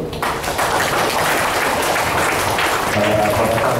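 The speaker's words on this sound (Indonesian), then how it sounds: "Kita berikan aplaus dulu." An audience at an academic lecture applauds, giving a steady, loud wash of clapping that holds for several seconds.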